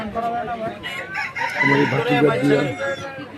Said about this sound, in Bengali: এটা মিরপুরে মুরগি নিলাম, মুরগির বাজার।